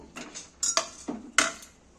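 Metal pot clatter as a pressure cooker with lentils goes onto a stove: a few sharp clanks and knocks, close and moderately loud, with no talking.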